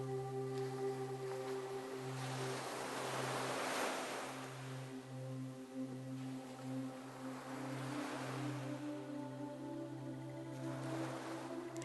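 Soft ocean waves swelling and receding in slow, gentle surges, fairly faint, beneath a sustained humming musical drone.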